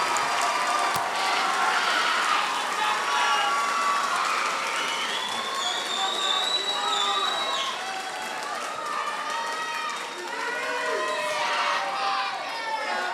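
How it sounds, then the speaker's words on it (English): Sustained applause from an audience honoring the Lafourche Parish Junior High Honor Band, dense clapping with scattered cheers and children's shouts, steady and loud throughout with crowd chatter underneath. "Let's give them a round of applause"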